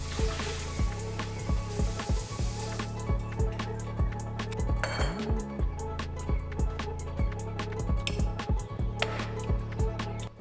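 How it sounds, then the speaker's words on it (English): A pot being washed in a kitchen sink: steady running water with a dense patter of drips and splashes, punctuated by frequent sharp clinks and knocks of the pot against the basin. No voices. "I did not have a clean pot to use, so I had to wash one up real quick."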